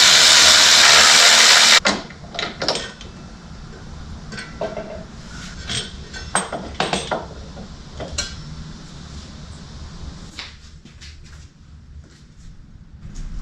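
A socket wrench with a 12mm socket working the brake caliper bolts on a Kawasaki Ninja motorcycle: a loud opening burst, then a series of sharp metallic clicks and ratcheting taps at close range over a quiet background.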